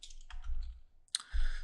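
A few quick, light keystrokes on a computer keyboard while entering a file name in MATLAB, close and quiet in an otherwise hushed room, followed by a brief low thump.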